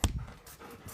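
Puppies panting and whimpering indoors, with a short close breathy burst at the start followed by soft, faint panting puffs and small whines, no speech.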